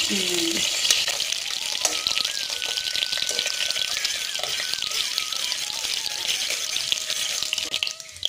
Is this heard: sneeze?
no